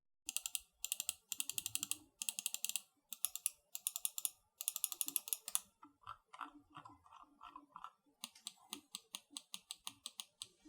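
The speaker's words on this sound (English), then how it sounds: "The left and right mouse buttons are the Omron 20 million click switches here" Left and right buttons on a Dream Machine DM1 Pro gaming mouse with Omron 20-million-click switches, clicked in fast crisp bursts, then slower single clicks and quick runs, close and dry with no voice.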